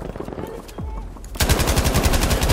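Rapid automatic gunfire from a weapon in the World War II shooter game Battlefield V bursts in loud and sustained after a quieter stretch of scattered shots and game noise, firing in a steady fast rhythm.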